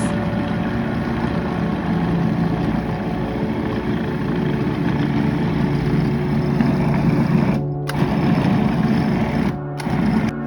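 An electric mixer beats pineapple empanada dough with vanilla and orange extract, making a loud, steady motor whir with a couple of brief dips near the end.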